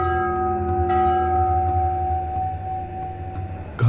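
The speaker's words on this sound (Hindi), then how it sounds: "घंटी की आवाज।" A bell rings out as a sound effect in a horror story: one sustained, ringing tone over a low hum, fading slowly before a sudden thump at the end.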